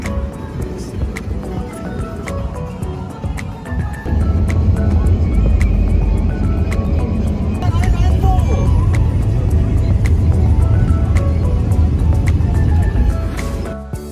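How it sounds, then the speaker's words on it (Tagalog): Road traffic while stuck in congestion near Rotorua, New Zealand, heard from inside a vehicle as a steady low engine and road rumble that grows heavier partway through, with voices talking over it. "Stuck in the traffic."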